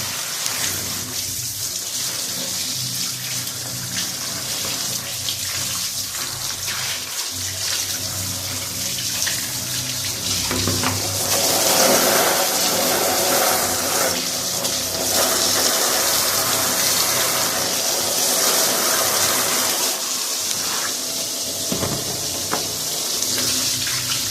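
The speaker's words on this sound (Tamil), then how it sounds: "நார்மலாக டேப் வாட்டரே கொஞ்சம் ஃபோர்ஸாக வர மாதிரி வச்சு கழுவினாலே இது போதுமானது." Forceful tap water streams and splashes over a dirty air conditioner filter being rinsed clean, a continuous close hiss of running water with shifting spatter as the filter moves under the flow.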